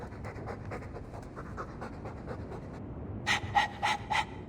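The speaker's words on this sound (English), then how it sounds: "All that noisy dog breath, day in, day out" A dog pants in quick, steady rhythmic breaths, close and fairly soft, in the Dragon Age 2 video game, with a few sharper, brighter breaths near the end.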